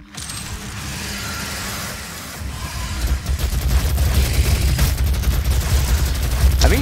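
Chain gun firing in the DOOM video game, a loud, continuous rattling barrage that builds and thickens with heavy low-end rumble and mechanical clatter.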